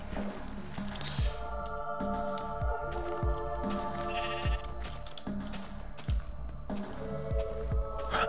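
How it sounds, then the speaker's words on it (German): A sheep in the Minecraft video game bleats a few times over steady background game music, fairly clear and close, with intermittent thuds and taps. "Ein Schaf?"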